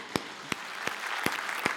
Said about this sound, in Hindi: तालियां बजा दीजिए एक बार